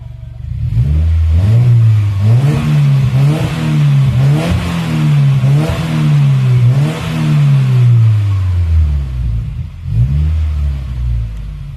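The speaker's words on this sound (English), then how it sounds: "here's a cold start with the new Magnaflow catback exhaust" A 2017 Subaru WRX with a Magnaflow catback exhaust on a cold start is revved repeatedly, in loud rising and falling blips with a rumbling idle between them.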